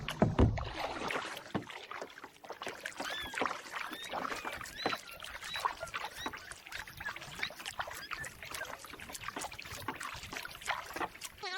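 A kayak is paddled across calm water while fishing with a toddler aboard, with soft dripping and splashing strokes, gentle trickles and small knocks against the hull, close and fairly quiet.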